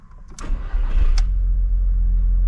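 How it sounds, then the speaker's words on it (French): An Audi TT mk1 car engine idles with a steady low rumble after a few brief clicks and bumps, growing louder and holding constant near the listener. "Le bruit du moteur."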